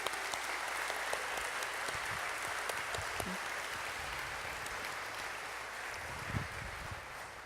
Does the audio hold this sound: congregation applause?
yes